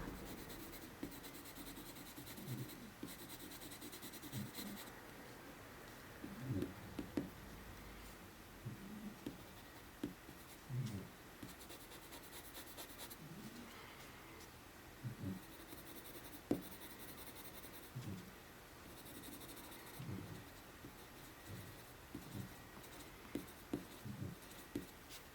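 A pencil, including a white one, scratches and scrubs across paper while drawing and blending, close and quiet with soft irregular strokes and pauses.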